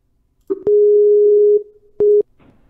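Skype call tone while dialing back guests: a long steady electronic beep followed after a short pause by a second shorter beep, loud and isolated against near silence.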